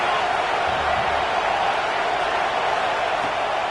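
Broad, steady roar of a stadium crowd at a football game, loud and unbroken throughout, with faint murmuring texture and no clear individual voices.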